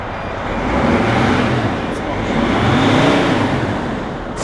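A cold Dodge Sprinter van engine with a blown cylinder head gasket runs at a steady, rough idle, close and loud throughout, with no pause or separate cranking burst.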